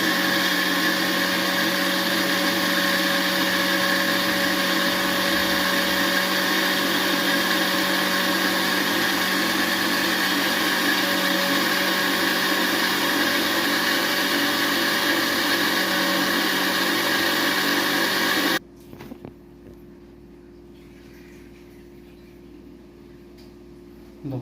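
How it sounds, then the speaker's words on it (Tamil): Mixer grinder pureeing tomatoes for fish curry, a loud steady motor whine that runs continuously for most of the clip, then cuts off abruptly to quiet near the end. "தக்காளியவும் இதேமாரி நல்லா கூழாக அரைச்சி எடுத்துக்குவோம்."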